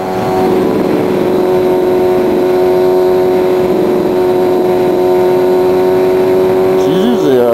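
A motorcycle engine runs loud and close as the rider twists the throttle, holding a steady droning whine that climbs slightly in pitch near the end.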